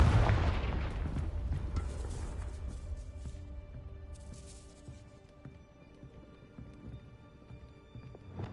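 A booming Confringo spell explosion goes off in the Hogwarts Legacy video game, loud at first and then decaying into a long rumbling tail with scattered crackles and debris sounds.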